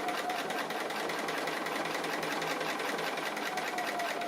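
A domestic sewing machine stitches around the raw edge of a fabric appliqué leaf, its needle whirring in a fast, steady mechanical rhythm without pause, fairly quiet and close.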